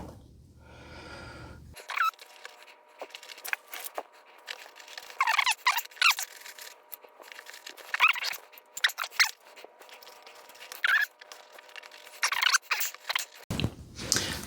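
The loose sole of a Muck boot being peeled apart: close, irregular crunchy tearing and squeaky rubber sounds in bursts over several seconds, with quiet gaps between pulls.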